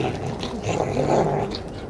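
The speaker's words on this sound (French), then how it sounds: "Ça, c'est un bon petit chien." A small dog growls low and continuously up close for a couple of seconds, a rough rumbling snarl with no talk over it.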